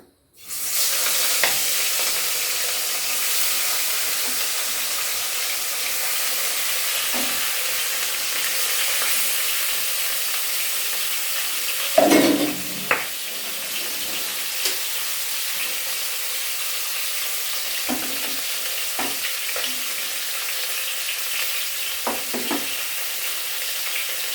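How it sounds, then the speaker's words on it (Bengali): Turmeric- and salt-coated rohu fish pieces fry in hot oil over a gas flame with a continuous, close sizzle, a louder crackling burst near the middle and fainter pops scattered across the rest. "মাছগুলো আমি ছেড়ে দেবো গ্যাসটা একটু বাড়িয়ে দিলাম"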